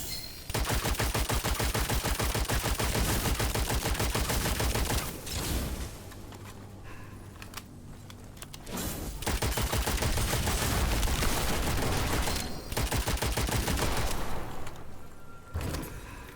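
Rapid automatic gunfire from weapons in the video game Witchfire, loud dense bursts of shots that pause for a few seconds midway, then resume hard with mechanical clacks between volleys.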